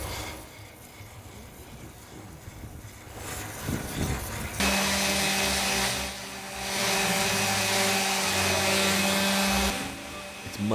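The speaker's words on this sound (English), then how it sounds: "And back to sanding." A power sander works over wooden stick chair parts, a whirring grinding drone that starts lighter, then rises into a louder steady hum with brief dips and shifts in pitch, close and without voices.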